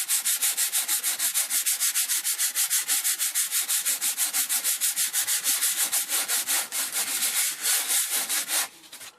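Sanding wall filler flat over a nail pull repair produces fast, even back-and-forth rasping strokes, close and steady for about nine seconds before easing off, with no talk.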